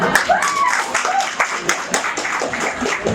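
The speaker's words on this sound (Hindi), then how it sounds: "जोरदार तालियां।" Loud, dense audience applause at an Expert Academy award function in 2022 as the best female choreographer is called up. Steady clapping runs throughout, with a voice speaking over it.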